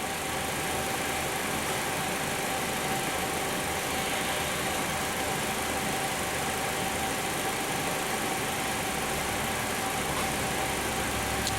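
Volkswagen engine idling in a workshop during EVAP purge solenoid diagnostics, a steady, unbroken mechanical hum and rumble that holds evenly throughout, with no talking.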